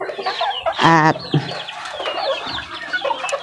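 Laying hens and free-roaming chickens on a backyard farm cluck in short bursts, with one loud nearby squawking call followed by scattered softer clucks and chirps; someone speaks briefly in between.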